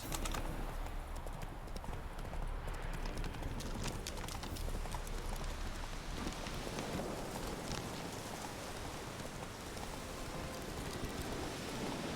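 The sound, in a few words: horse Roach's hoofbeats in the video game The Witcher 3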